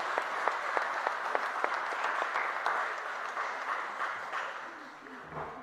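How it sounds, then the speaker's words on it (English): A church congregation applauds steadily in a reverberant hall, sustained moderate clapping from many hands that fades slightly toward the end. "Let's give a round of applause"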